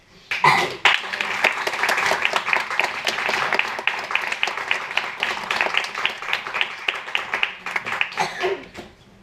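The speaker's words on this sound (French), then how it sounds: "On applaudit bien fort." Audience applause for the performers at an evening show, a dense burst of clapping that starts abruptly, stays loud and steady for several seconds, then thins out near the end.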